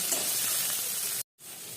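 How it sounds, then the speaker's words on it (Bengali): Butter mushrooms fry in hot oil in a pan, giving a dense, loud, continuous sizzle that cuts out for a moment before resuming. "বাটার মাশরুমটা এখানে ভাজছি"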